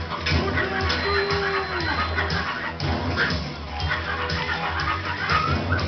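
Worm dogs barking in the SpongeBob SquarePants Movie video game, short yips and barks over a dense, steady game soundtrack with crowd-like noise throughout.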